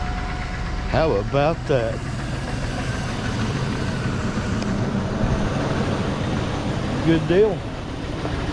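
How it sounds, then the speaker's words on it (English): A 1999–2006 Chevrolet Silverado engine, just fitted with a new starter, runs at a steady idle throughout, a continuous low rumble with someone speaking briefly near the start and again near the end. "let's just throw a key in this thing and see if our starter starts."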